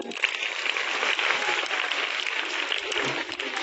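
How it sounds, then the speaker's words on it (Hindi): Steady, dense applause from an audience at a girls' higher secondary school motivational gathering in Khargapur, Tikamgarh, continuous and fairly loud for a few seconds without pause. "बजाओ ताली भर दो"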